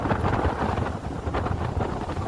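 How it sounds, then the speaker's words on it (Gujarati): Strong pre-storm wind sweeps across an open farm field, roaring in continuous gusts that buffet the microphone, with no voices. "જો વાદળો ઘેરાયેલો છે અને પવન છોડ્યો છે"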